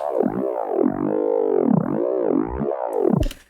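Dubstep growl bass synth with volume and pitch automation through an auto filter, a continuous wobbling, vowel-like snarl swooping up and down in several waves, fairly quiet and alone, ending with a brief noisy burst.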